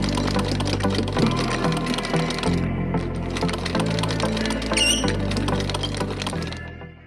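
A sewing machine runs a basic straight stitch along a fabric fold: a fast, steady mechanical needle rattle, close and continuous, with slight shifts in speed and a few short pauses.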